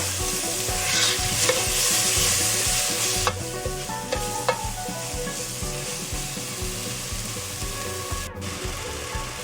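Spices with chilli and dried fenugreek frying in a pan over medium heat, stirred steadily, a continuous loud sizzle with scraping and occasional utensil knocks throughout.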